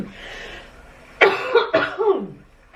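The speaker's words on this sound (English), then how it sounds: "I have no idea why I'm coughing" A few sharp, harsh coughs in quick succession, close and loud, preceded by a moment of quiet breathy sound.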